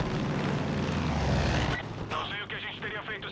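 A propeller airplane in Far Cry 5 drones loudly up close, then the engine roar drops away and voices talk over a lighter hum.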